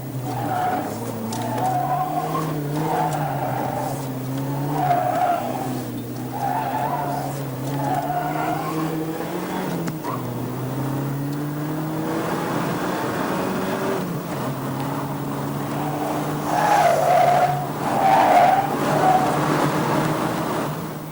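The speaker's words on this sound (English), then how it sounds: "let's see the Saab Turbo against the BMW 528 on a slalom" A Saab Turbo and a BMW 528 are driven hard through a slalom course, their engines droning as tires squeal and skid through repeated turns, steady and fairly loud throughout with no talk.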